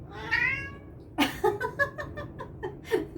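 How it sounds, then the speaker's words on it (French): A cat lets out a drawn-out meow, then a string of shorter, choppy meows and chirps, close and fairly loud over a quiet room. "Le chat, il est d'accord."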